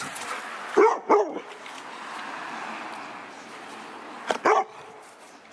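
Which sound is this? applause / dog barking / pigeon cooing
dog barking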